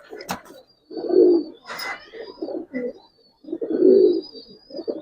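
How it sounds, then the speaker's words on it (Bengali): Female Giribaz pigeon cooing nearby in a run of soft, throaty coos that come in uneven bursts, with a few faint flutters and sharper clicks between them. "এটা মাদি কবুতরটা ভাই"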